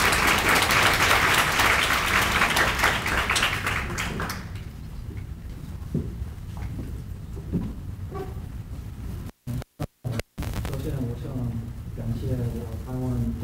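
Audience applause welcoming a speaker at a youth working-holiday information session in Kaohsiung: dense, loud clapping for about four seconds that fades out, followed by a voice speaking over a quieter room.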